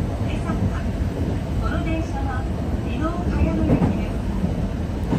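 A Kita-Osaka Kyuko subway train runs with a steady rumbling roar and faint rail clatter, heard from inside the car. A voice speaks softly over the noise.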